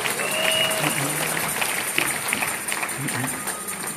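A church congregation applauds and cheers for the mothers during a sermon on marriage, a busy, moderately loud wash of clapping with scattered voices and shouts running through the whole stretch.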